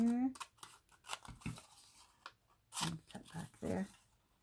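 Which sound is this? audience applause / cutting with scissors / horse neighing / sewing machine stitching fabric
cutting with scissors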